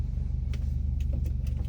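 A Subaru WRX driving along, a steady low engine and road rumble heard from inside the cabin, continuous and fairly loud with faint light ticks on top.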